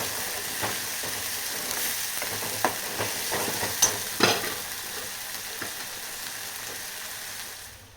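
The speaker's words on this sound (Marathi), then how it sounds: "खोबरं, कोथिंबीर, आलं, लसूण. चांगला मसाला असा तेलात तळू द्यायचा आहे" A masala of coconut, coriander, ginger and garlic fries in oil with a soft, steady sizzle, broken by occasional light clinks and stirring scrapes, fairly quiet and free of speech.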